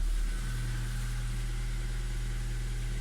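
Steady, loud engine drone from a 2017 Kia Ceed with a 1.6 engine just after a cold start, running alone and unchanging at close range with no voices.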